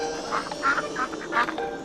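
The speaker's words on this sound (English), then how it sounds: "D is for ducks." Several ducks quack in a quick, uneven series of nasal calls, close and fairly loud, with no one talking over them.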